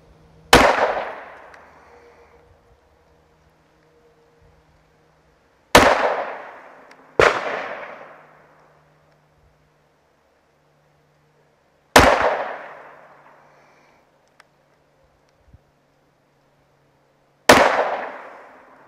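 An M&P 2.0 10mm pistol fires 165 grain jacketed hollow point rounds in five sharp, loud single shots spaced a few seconds apart, each ringing out and decaying over an outdoor range.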